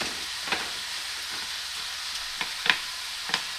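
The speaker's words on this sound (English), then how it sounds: "Keep stirring your meat." Ground bison meat and vegetables for Korean yaki mandu filling fry in a pan while being stirred, giving a steady close sizzle broken by a few sharp scraping clicks of the utensil.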